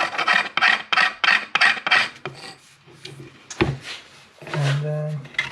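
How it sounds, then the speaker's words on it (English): A scraper rasping across a wooden guitar fretboard to remove a small bump, a series of short rhythmic strokes up close, followed by a few clunks and brief handling noises. "we are going to scrape it just to make sure. We have a little bump here we want to get rid of."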